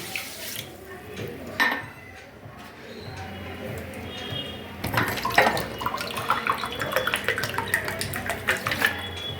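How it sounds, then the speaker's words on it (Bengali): Water pours into a cup of sugar to start syrup for gulab jamun, a splashing stream running in bursts and then more steadily, with a couple of clinks from the vessel. "আর ওই কাপেরই আমি 2 কাপ জল দিয়ে দেব শিরাটা বানানোর জন্য।"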